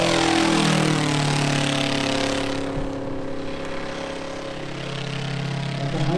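Model aircraft engine at a model air show, throttled back to idle on approach to the runway threshold, a loud steady buzz that slowly drops in pitch and then holds a low, even drone.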